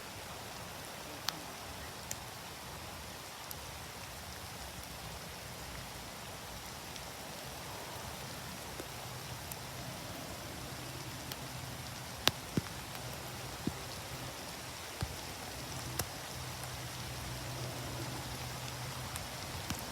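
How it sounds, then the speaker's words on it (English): Steady rain falls across an open golf course, a constant broadband hiss with scattered sharper drop hits throughout, no one speaking. "Rain turning to hail as we head to the 8th."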